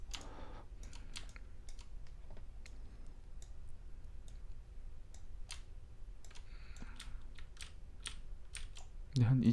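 Rapid, steady clicking of computer keyboard keys, close and fairly quiet, continuing throughout with a few louder presses and a soft voice briefly at the end.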